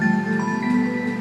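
Omnisphere's Drops of Copper Arp synth preset plays a steady, shimmering run of bright, sustained pitched notes with rich overtones and a low hum, holding at an even level throughout without any talking.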